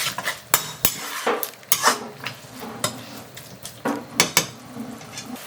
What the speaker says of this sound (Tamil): அது வரைக்கும் இதை நல்லா வதக்குங்க கீரையை